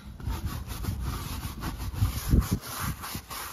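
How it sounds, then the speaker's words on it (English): A brush scrubs tire cleaner into a car tire, producing a steady, close rasping swish in repeated strokes with no talk. "take this brush and I'm just gonna use the cleaner, scrub that in"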